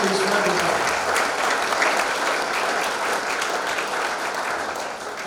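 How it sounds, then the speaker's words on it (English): A crowd at a sports hall of fame induction ceremony gives sustained applause for the inductees, loud and even clapping that fills the room and eases slightly toward the end. "Let's have a nice round of applause, please, for everybody."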